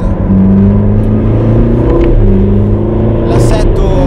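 A turbocharged Ferrari California T accelerates on the roads of Monte Carlo with a steady, strong engine drone. A voice talks over the engine for most of the clip.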